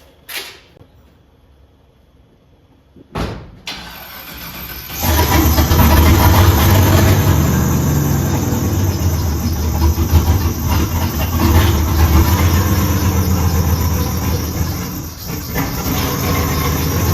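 A car on its way up onto a workshop lift: a door thuds shut, the engine fires, and then it runs as a loud, steady close rumble with slight rises as it moves.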